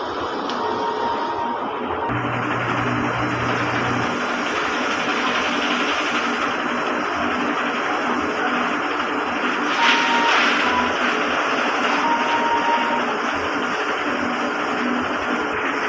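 A steady mechanical whirring and humming from a DTF printer running a head cleaning cycle, with occasional faint clicks and a brief louder motor surge partway through.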